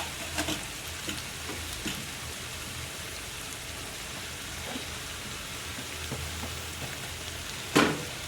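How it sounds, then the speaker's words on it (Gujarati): Tomatoes being added to a peanut curry frying in a pan: a steady dense sizzle with scattered soft taps and one sharper clink near the end, close and with no talking. "હવે આપણે ટમેટા પણ નાખી દઈશું।"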